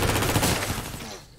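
Rapid gunfire from a John Wick movie car scene, with a man shooting through a car roof as it rolls: a dense, loud burst of shots that fades out within about a second and a half.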